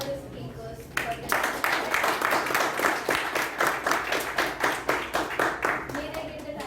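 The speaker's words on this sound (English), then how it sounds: "Let us give a big round of applause" An audience claps together in steady, rhythmic applause for several seconds, fairly close, after a voice speaks briefly at the start.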